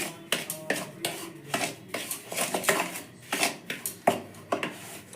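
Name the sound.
stirring Horlicks and semolina together in a bowl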